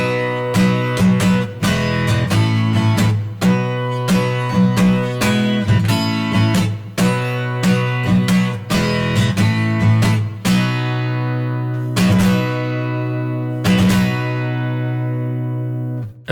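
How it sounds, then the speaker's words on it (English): Guitar in open E tuning plays a song intro, a loud, steady run of strummed chordal riffs with rhythmic repeated attacks, ending on ringing sustained chords, with no talking. "so the intro would sound like this in open E tuning"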